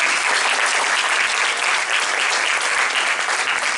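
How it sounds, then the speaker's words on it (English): Sustained, dense applause from a seminar audience welcoming guest speakers, loud and steady throughout with no voices over it. "let's give our guests a round of applause"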